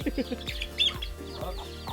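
Chickens cluck at a garden farm, with a run of short, rhythmic clucks and a few higher chirps close by, mixed with faint background activity.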